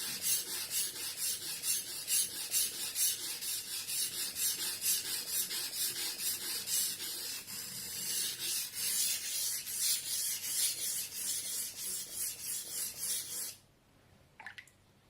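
Steel knife blade stroked back and forth on a Suehiro Combo #200/#1000 splash-and-go whetstone, a steady rhythmic rasping scrape repeating close up for about thirteen seconds before stopping abruptly.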